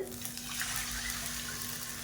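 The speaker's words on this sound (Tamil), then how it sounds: "இப்போ இந்த ஸ்டேஜில் நம்ம தண்ணி சேர்த்துக்கலாம்" Water pours steadily into a pan of fried coconut while making pidi kolukattai with rice flour, giving a continuous splashing stream up close.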